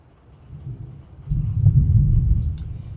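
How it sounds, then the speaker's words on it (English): Thunder rumbles outdoors during plant propagation, a low growl that swells after a quiet start into a loud, sustained roll before easing off. "There's thunder."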